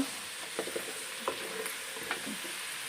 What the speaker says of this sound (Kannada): ಕಡಲೆ ಬೀಜ ಚೆನ್ನಾಗಿ ಫ್ರೈ ಮಾಡ್ತಾ ಇದ್ದೀನಿ